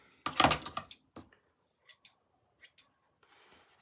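Scissors cutting paper for a scrapbook page: a close burst of several quick snips at the start, then a few isolated crisp clicks and cuts with quiet pauses between.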